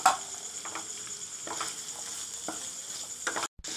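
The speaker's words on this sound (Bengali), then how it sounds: "মাংস ও আলুটাকে ভালো করে কষিয়ে নিয়েছি" Minced meat and chopped potatoes fry in a pan with a constant low sizzle, marked by occasional scraping stirs and a brief dropout near the end.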